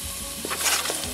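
Onions hit hot olive oil in a pan, giving a brief, close, steady sizzle and crackle with a soft stirring scrape, heard alone.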